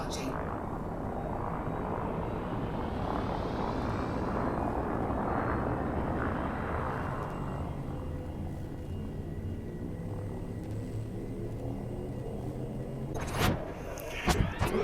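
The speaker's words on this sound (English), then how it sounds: "I do very much like the engine sounds with the Asp." Asp spaceship engine in the game Elite Dangerous, a deep droning propeller-like hum with layered tonal harmonics that swells and then settles, ending with a few sharp clicks.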